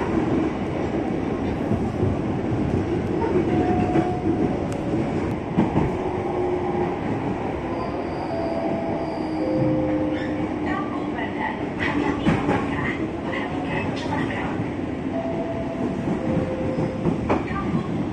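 A Jakarta commuter line train runs at night, heard from inside the carriage as a continuous loud rumble with rail clatter, faint squealing tones and occasional talk under it.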